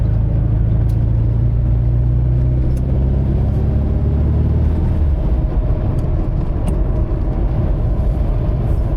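A lowered 1973 Porsche 914 Targa with a 2.0L engine and manual gearbox drives along, its engine rumbling loud and steady throughout, with the pitch dropping about halfway through.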